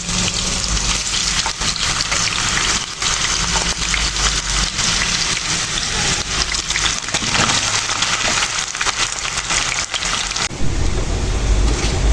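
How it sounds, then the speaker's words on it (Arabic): French fries sizzle loudly in hot oil, a dense, constant crackling hiss close by that sounds almost like heavy rain, with no talking. "نحط الفريت تاعي طيب"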